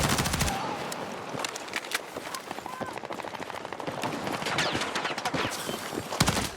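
In the video game Battlefield 6, the SCW gun fires in rapid automatic bursts, with sharp cracks running in quick rhythm over a busy battlefield and a voice speaking now and then.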